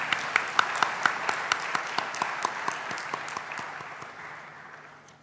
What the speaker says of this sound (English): If we clap, she will feel warmer.